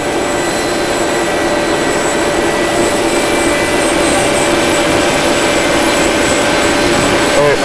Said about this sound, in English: we're waiting here till the plane takes off for Cairo.